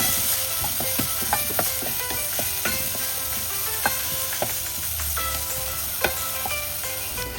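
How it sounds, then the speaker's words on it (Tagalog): Onion stir-fries in hot cooking oil in a pan, with a continuous loud sizzle and frequent scraping and clinking of a utensil stirring against the pan, and no talking. "Stir fry lang natin ito."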